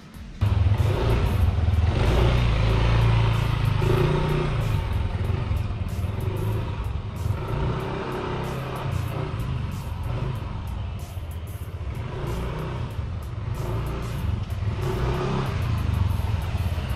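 A Yamaha NMAX scooter with automatic CVT transmission runs on a road test, its engine droning and revving loudly and steadily throughout, close by, with wind and road noise and no speech.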